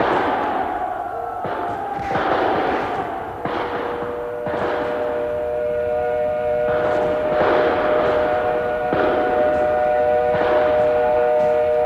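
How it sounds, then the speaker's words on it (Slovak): Siren of one of the ships that brought the men, hooting at a riverside ambush: long sustained tonal blasts repeating several times at a distance, layered over a rumbling background with no voices. "je siréna jednej z tých lodí, čo ich priviezli"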